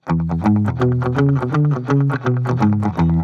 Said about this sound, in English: walking bass line that sounds something like this